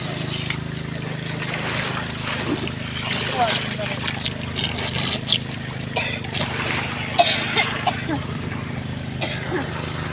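A small petrol water pump with a 1.5-inch outlet and a 20-metre hose runs with a constant droning engine note and splashing water, while people talk over it.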